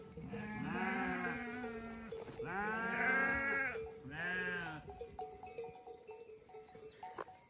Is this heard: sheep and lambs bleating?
yes